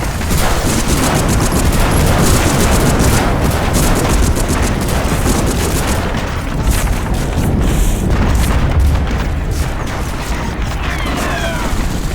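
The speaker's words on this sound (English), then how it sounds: "We'll give you cover fire." Dense covering gunfire in the World War II shooter Medal of Honor: Frontline, a continuous loud barrage of rapid rifle and machine-gun shots mixed with heavy booms, sustained throughout with no pause.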